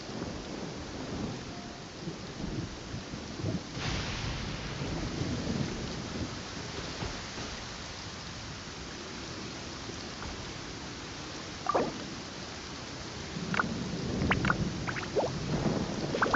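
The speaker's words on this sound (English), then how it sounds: "This rain keeps up, my fur will be dripping wet." Steady in-game rainfall from Genshin Impact hisses continuously throughout, with a rumble of thunder and a few sharp drip-like clicks near the end; no talking.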